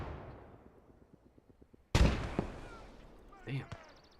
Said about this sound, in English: Oh, and a grenade, huh?